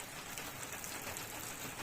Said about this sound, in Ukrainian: Прямо лівень.